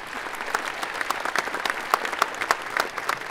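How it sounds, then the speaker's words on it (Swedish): Warm audience applause welcoming speaker Tone Bekkestad on stage at the Samhällsbyggnadsdagarna 2017 conference, steady and fairly loud with many distinct claps from a sizeable crowd, sustained throughout. "Välkommen med en varm applåd."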